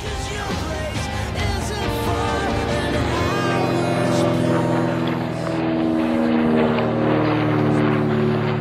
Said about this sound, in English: That's the Par Avion plane flying above us.